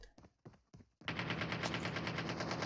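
Gunfire in Call of Duty Mobile during a competitive esports match: a few separate shots, then a sustained rapid automatic burst that runs loud and continuous to the end.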